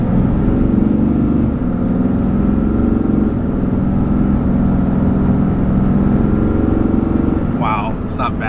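A RAM 3500 Big Horn regular cab dually pickup with a high-output Cummins diesel accelerates from a standstill, its engine drone loud and continuous up close, a voice briefly audible near the end.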